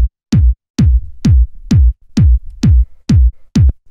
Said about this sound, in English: this is just a fat 909 kick